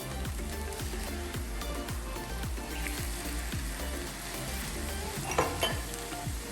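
Prawn curry with coconut milk being stirred in a frying pan, a steady sizzle with repeated soft scraping strokes of the spoon, close and continuous, no talk.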